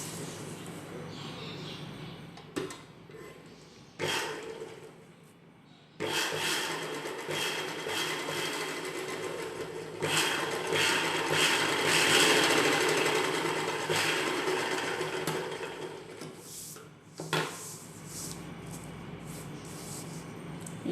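A sewing machine stitches around the neck of an umbrella-cut dress top, running close and steady in long start-stop bursts with brief pauses between runs.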